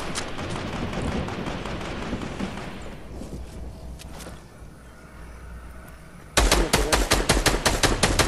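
Fortnite gunfire rattles out in rapid bursts, dense machine-gun-like volleys that thin out midway, then a loud, sharp string of closer shots near the end, with no voices.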